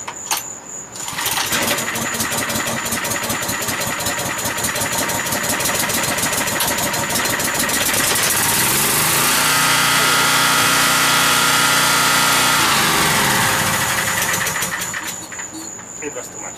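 A portable generator running on LP or natural gas cranks and catches, then settles into a loud, steady idle with a buzzing mechanical drone, its pitch shifting partway through before the engine winds down near the end.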